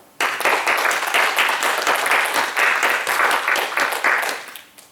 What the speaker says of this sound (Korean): 우리 하나님께 감사와 영광의 박수 올려드립시다.